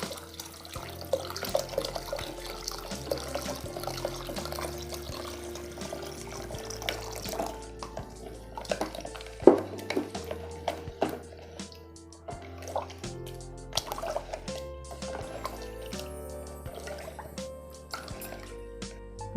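Water poured into a container of grapes and stirred by hand for homemade grape wine, a close running trickle with drips and wet knocks.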